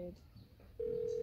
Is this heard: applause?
no